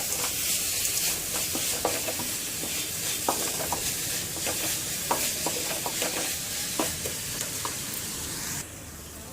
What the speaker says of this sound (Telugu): ఇప్పుడు మనం కొంచెం 1 స్పూన్ సాల్ట్ వేసుకొని బాగా కలుపుకోవాలి.